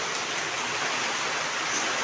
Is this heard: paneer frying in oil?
no